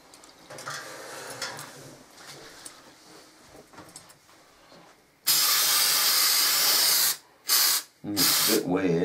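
A spray can lays down stone textured finish on a Hornby model station platform, its loud hissing bursts following some quieter handling sounds, with one long spray then two shorter ones separated by brief pauses.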